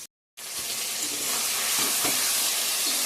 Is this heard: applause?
no